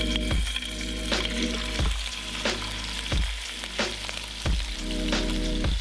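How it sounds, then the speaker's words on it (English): Venison sears in olive oil heated almost to smoking in a hot pan, a loud close sizzle and crackle with regular thumps and scrapes about every second or so as the meat is moved, no voices. "The meat should sizzle on contact."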